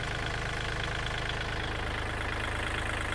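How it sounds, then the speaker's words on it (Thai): A tractor's diesel engine idles close by, a steady, even chugging rumble that never changes pace, with no one speaking. "เครื่องยนต์ก็สตาร์ทติดง่ายนะครับไม่มีลากไม่มีอะไรนะครับเสียงเครื่องก็ปกตินะครับ"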